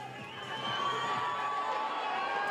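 A crowd lining an urban downhill mountain-bike course in Valparaiso cheers Chilean riders, a steady broad roar of distant voices holding at even loudness throughout.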